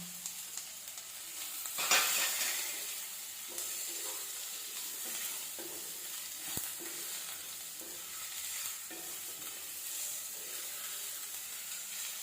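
Mudakathaan greens sizzle gently in a pan with crushed pepper and cumin, a soft steady frying hiss with occasional faint stirring taps and one brief louder scrape, no voices.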